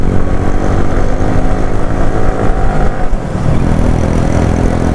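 Motorcycle engine roaring steadily at close range while overtaking on a hilly road in Kangra, Himachal Pradesh, with a Yamaha R15 V3 and a Hero Splendor riding together; loud continuous drone, no talk.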